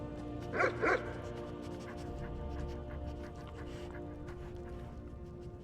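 A husky barks twice in quick succession early on in VR Skyrim, loud and close, then a quieter in-game ambience with music continues alone.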